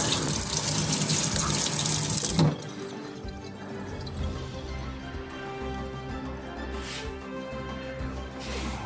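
Hot tap water at 122 degrees gushes loudly from a faucet for about two and a half seconds, then settles into a softer, steady trickling flow.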